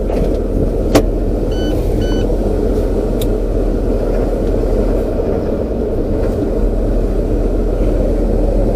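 A vehicle engine idles steadily on a cold start while warming up, a constant low rumble filling the whole stretch, with a couple of brief faint clicks near the start.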